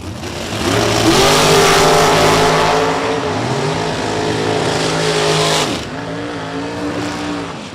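Drag race cars launching down the strip at Kil-Kare Dragway during an outlaw racing series, a loud, sustained roar of engines revving up and pulling away, then a second surge as the noise shifts near the end.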